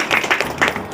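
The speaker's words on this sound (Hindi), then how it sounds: "थोड़ा ताली बजा दो भगवान के नाम" Hands clap a few times in a brief burst at a Durga puja pandal, close and fairly loud.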